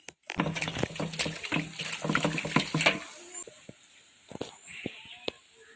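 Cut fruit pieces being rinsed and swished in water by hand, with a run of sloshing, splashing sounds for about three seconds, then scattered drips and clinks close by.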